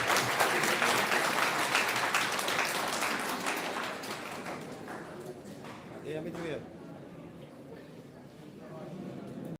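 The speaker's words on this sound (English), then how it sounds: "Now you guys can clap." Sustained clapping from an audience at a live college event hall, loud and dense at first, then gradually thinning and fading, with voices murmuring underneath as it dies down.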